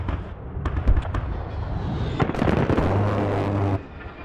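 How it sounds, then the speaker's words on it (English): An aircraft flies in for an airstrike in the military shooter game Squad, a loud rumbling roar building over the clip among sharp explosive cracks and battlefield noise. "Aircraft ready, IP inbound."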